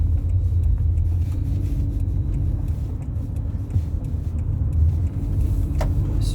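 A car drives off, a steady low engine rumble and road noise running close and fairly loud throughout, with no talk over it.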